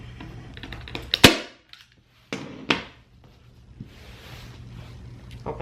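A staple gun drives staples through upholstery fabric into a kitchen chair, firing two sharp, loud clacks about a second and a half apart, with quieter handling noises around them.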